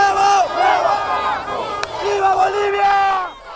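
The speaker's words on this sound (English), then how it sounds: "as the news broke, there was cheering and jubilation from supporters of the opposition." Opposition supporters cheering and chanting in the streets of La Paz, Bolivia, a loud crowd roar with rising and falling shouted voices, close and sustained for several seconds.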